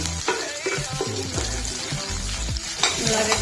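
Onion frying in hot oil in a pan alongside coriander while cooking a fenugreek leaf and gram flour dish, with a crackling, spluttering sizzle, stirring clatter and scraping, close and fairly loud.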